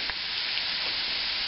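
A pan sizzles loudly and steadily as flour goes in for a smoked sausage and chicken étouffée roux, the frying hiss dense and continuous at close range.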